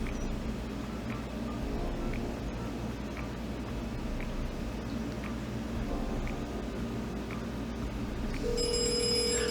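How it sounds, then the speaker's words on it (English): An office desk phone on an Incredible PBX 13 system rings from a test call, a faint repeating electronic ring pulsing at regular intervals over a steady room hum, with a brighter tone entering near the end. "So now it's ringing at my desk,"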